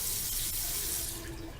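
Water runs from a tap in a steady, bright hiss and splash that eases slightly toward the end, close by, with no voices.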